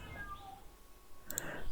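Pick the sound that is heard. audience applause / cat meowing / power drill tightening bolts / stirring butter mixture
cat meowing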